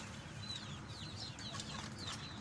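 Australorp breeder chickens cluck and chirp in short, faint calls scattered over a steady low background hum.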